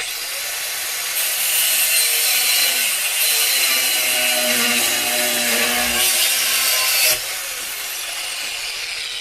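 An angle grinder cuts steel stock for trailer stake holders, a loud, harsh broadband rasp held steadily for several seconds before cutting off abruptly, with a low hum continuing afterward.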